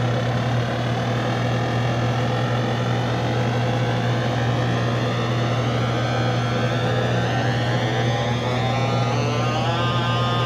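A PDP-12 computer used as a makeshift theremin, producing a steady buzzy sustained note with a dense stack of harmonics and a slight pitch glide toward the end, loud and continuous.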